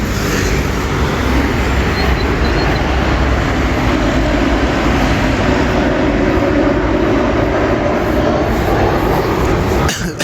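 Loud, steady broadband roar of a passenger airplane in flight on a trip home to Toulouse, heard from inside the cabin, continuous and unchanging for about ten seconds with no talk.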